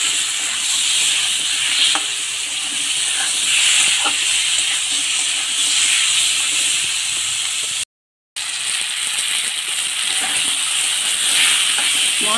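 Spices stir-fry with fried eggplant and ridge gourd for a catla fish curry, a loud continuous close sizzle and hiss with stirring scrapes, interrupted once by a brief silent gap.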